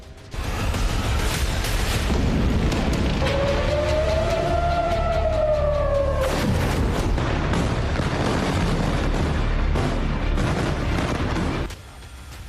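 A wailing siren rises and falls over loud, continuous rumbling and crackling blasts of explosions in a Middle East war, dense and noisy throughout before cutting off near the end.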